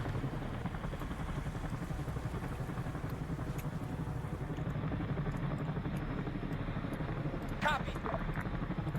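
Helicopter flying low over terrain in Arma 3, a steady rotor and engine drone throughout, moderately loud, with a brief louder swell near the end.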